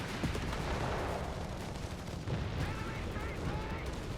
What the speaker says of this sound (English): Shots are hitting the Stuart.